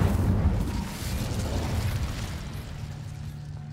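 An Incendio fire spell bursts in Hogwarts Legacy, a steady roaring rush of flame that starts strong and slowly tapers over a few seconds.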